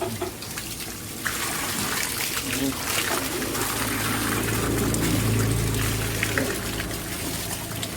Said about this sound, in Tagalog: So ito po ang isa pang flowing, napakalakas na buhos ng tubig.